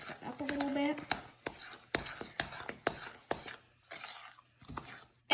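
Brownie batter being mixed with a big spoon, a run of soft irregular scrapes and knocks against the bowl, close by, with a voice speaking briefly at the start.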